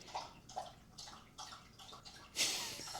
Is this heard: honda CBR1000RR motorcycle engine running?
no